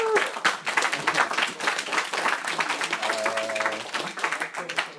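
Conference audience applauding after a talk, dense ongoing clapping from many hands in a room, loud and sustained throughout, with a brief tonal sound rising partway through.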